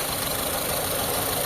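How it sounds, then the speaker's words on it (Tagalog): The engine of a two-door Mitsubishi Lancer GSR idles roughly and unsteadily, with a steady loud mechanical drone and no talk over it. "magalaw yung makina ni sir."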